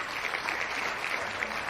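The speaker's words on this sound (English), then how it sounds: "Some applause there, Michael." Applause from an audience during a live business show segment, a steady spatter of clapping at moderate volume with no voices over it.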